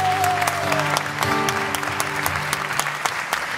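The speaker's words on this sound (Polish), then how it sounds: "wielkie brawa!" Concert audience in Poznań applauding a sound engineer after a performance, a dense steady wash of clapping with a sustained tone underneath, lasting the whole stretch at an even, fairly loud level.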